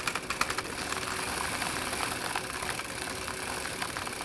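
A bicycle chain is back-pedalled through a chain cleaner tool with bristles, making a steady, close whirring rattle with fine, rapid ticking that runs evenly for a few seconds.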